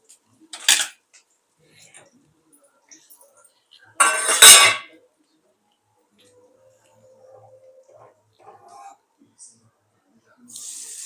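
Hot oil tempering of dried red chillies, curry leaves and fenugreek powder is poured into tamarind chutney, giving one short, loud sizzling hiss amid scattered soft clinks of utensils and long quiet gaps.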